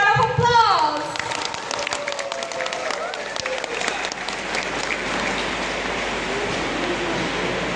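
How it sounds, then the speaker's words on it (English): Audience at a college freshers' meet and annual gathering bursts into sustained applause, dense clapping that swells after a brief musical or vocal opening and continues steadily, with crowd noise mixed in. "So everyone, please give a huge round of applause."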